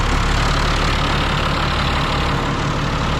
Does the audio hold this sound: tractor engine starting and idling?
yes